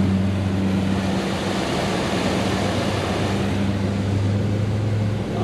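Motorboat engine with a Garmin Reactor 40 autopilot aboard, a steady loud drone with a low hum running throughout, held at high power without a clear rise in pitch.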